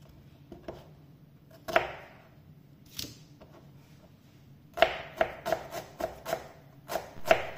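Knife chopping onions for a spicy mashed bhorta, a few sparse cuts followed by a run of sharp, irregular taps on a board, close and fairly quiet, with no talking.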